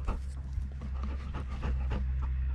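A dog pants close by, quick rhythmic breaths repeating steadily and fairly softly over a low rumbling outdoor background.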